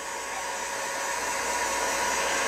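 Heat gun blowing hot air over plumbing tubing on a Manabloc water system, a steady loud broadband whoosh with a constant motor whine that holds unbroken throughout, with no talking.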